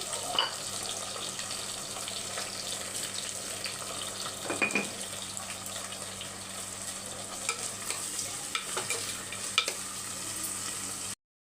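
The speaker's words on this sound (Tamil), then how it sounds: "நூக்கல் வந்து நல்லா வதக்கணும்" Kohlrabi sautéing with tomato and salt in a pan, a continuous close sizzle with occasional scraping stirs, no talk.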